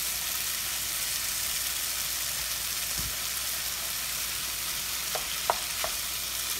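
Vegetables with sliced tomato rings fry on high heat in a pan, giving a steady, hissing sizzle throughout with a few faint stirring clicks and taps near the end, no talk.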